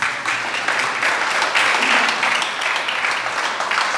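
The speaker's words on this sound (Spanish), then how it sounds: "Dele un aplauso a Dios con eso." A church congregation applauds steadily for about four seconds, a dense, even wash of clapping that fills the room, with no speech over it.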